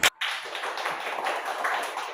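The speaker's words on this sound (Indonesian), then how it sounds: "Tepuk tangan dulu untuk kita semua." A group of students claps together after a classroom discussion, a steady close patter of many hands for about two seconds following a brief sharp tap at the start.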